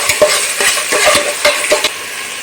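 Ginger garlic paste sautéed in a pan for chana pulao, a sequence of sharp spatula scrapes and knocks over a soft sizzle, close and brisk.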